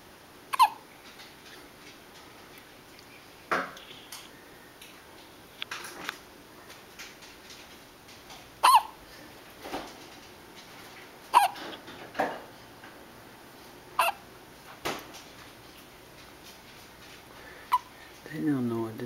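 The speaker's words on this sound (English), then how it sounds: "Somebody's got the hiccups." Someone hiccups about a dozen times, each hiccup a short, sharp gulp spaced irregularly a second or several apart, heard close in an otherwise quiet room.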